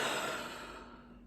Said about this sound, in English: Let's take a moment and just prepare ourselves with a nice deep breath.